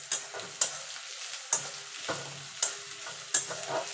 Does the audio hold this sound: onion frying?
yes